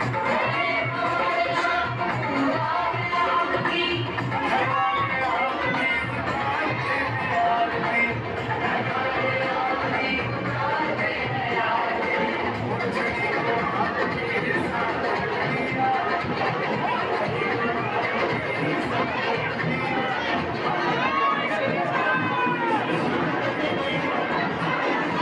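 A dense crowd fills the air at the Khatu Baba chariot procession, a steady wash of many voices and general bustle that stays loud and unbroken throughout with no single sound standing out.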